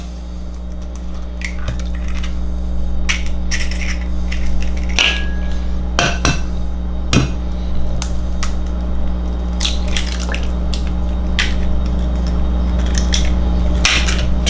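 Eggs being mixed into Kaiserschmarrn batter in a bowl, with irregular wet squishes and clinks of a utensil against the bowl over a steady low background hum.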